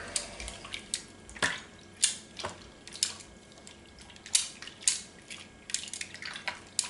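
Stirring a venison jerky marinade in a bowl, made with two 10-ounce bottles of sauce, gives repeated wet sloshing and clinking strokes at close range with no talk.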